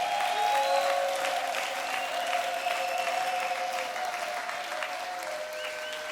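A church congregation applauds and cheers for God at a sermon by Pastor Nzuzi Mbala, steady loud clapping with crowd noise throughout, gradually easing slightly.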